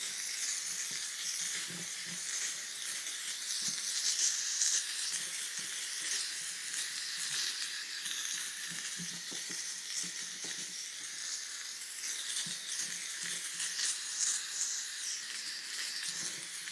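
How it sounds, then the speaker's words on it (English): Live steam blasting a plastic Apimaye beehive, a steady loud hiss and sizzle running throughout with slight surges and small knocks underneath, no voices. "We're just using some live steam."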